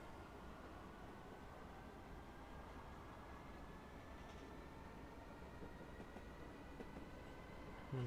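Class 313 electric multiple unit in Train Simulator 2020 running on London Overground track, a steady loud broadband rumble of wheels and motors with a faint rising whine throughout, heard from inside the cab with no speech.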